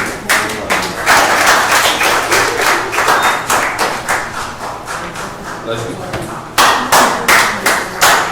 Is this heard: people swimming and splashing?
no